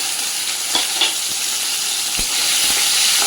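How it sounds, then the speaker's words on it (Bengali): Chopped tomato and green chili sautéing in hot oil in a pan: loud, close, continuous sizzle with a few soft stirring knocks, no talk. "এবার এটাকে ভালো করে আমি একটু কষিয়ে নেব।"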